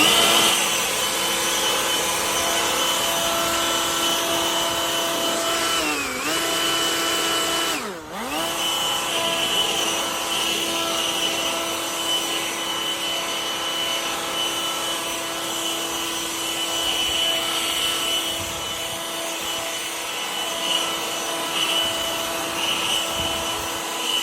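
A Greenworks leaf blower runs continuously at normal speed and a steady pitch, a loud, unbroken whine with a brief dip partway through.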